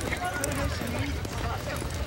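Horse hooves clip-clop in a rodeo arena during a stampede event, a steady trotting rhythm heard close under a commentator talking over it.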